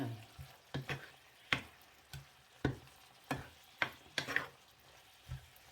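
Food sizzles quietly in a pan while a utensil scrapes and clacks in irregular strokes, each stir bringing a short burst of frying noise.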